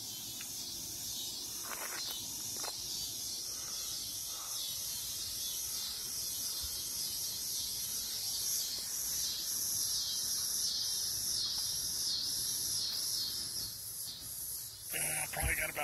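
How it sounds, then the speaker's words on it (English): Cicadas during a solar eclipse, a continuous shrill, hissing drone holding steady throughout at moderate level, with a few faint thumps and handling noises near the end. "The cicadas are active."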